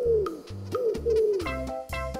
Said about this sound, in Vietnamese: Bồ câu.